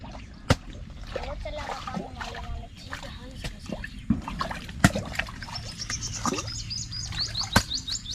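Fish splashing and breaking the water surface, brief splashes and sloshes scattered over a steady watery background with voices talking nearby.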